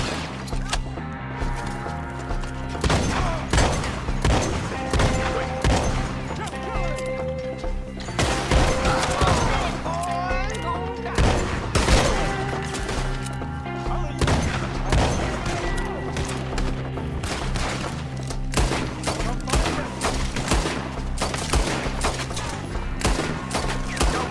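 Dense gunfire in Red Dead Redemption 2, a loud, nearly continuous fusillade of rapid shots and sharp cracks over a game soundtrack, with no break across the whole stretch.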